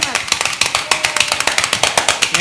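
An audience gives a welcoming round of applause for a bolero singer on an interview show: rhythmic, fairly loud clapping in quick regular beats, near and steady, with voices speaking over it.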